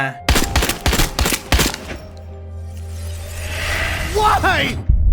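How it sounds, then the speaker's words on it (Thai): Gunfire in a Resident Evil Village game trailer: a loud rapid burst of several shots, then a low rumbling drone, a rising whoosh and warbling tones building toward the end. "ว่าทำไมคริสถึงยิงมีอา"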